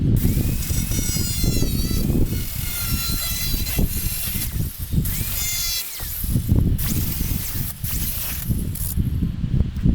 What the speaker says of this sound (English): I'm just lopping off the big parts with the grinding wheel.